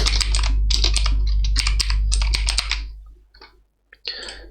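Rapid clacking of a computer keyboard as code is typed, dense bursts of keystrokes with short pauses, close and clear over a low hum, tapering to a few isolated taps near the end.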